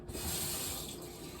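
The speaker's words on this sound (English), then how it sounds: "put a little water in these so" Tap water runs into jars holding leftover tomato, basil and garlic sauce, a close, steady rushing pour that lasts throughout.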